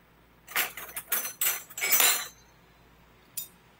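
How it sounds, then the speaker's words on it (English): Metal fork and spoon clink against each other as they are slipped into a folded napkin pouch for a table setting: a quick run of close, bright jangles over about two seconds, then a single light clink after a pause. "I can go ahead and fill it with my fork, my spoon"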